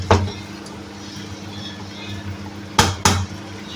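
A spoon scrapes and stirs cooking spinach in a pot for palak chicken. There is one sharp scrape at the start, then two close scrapes near the end, all over a steady low kitchen hum.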